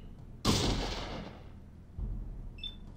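A single gunshot in the post-apocalyptic game Fallout, a sharp loud crack that decays over about a second, followed by a softer thud and a faint electronic blip.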